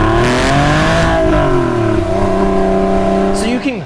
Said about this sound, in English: all of this is backed up by a naturally aspirated flat six